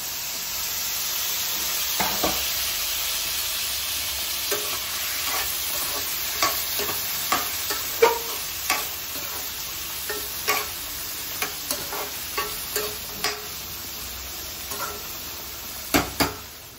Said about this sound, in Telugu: ఇప్పుడు పచ్చిమిర్చి, వంకాయ, ఉల్లిపాయ అన్నీ వేసేసుకోవచ్చు ఒకేసారి